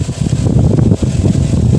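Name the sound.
air blowing from a homemade 12V DC motor table fan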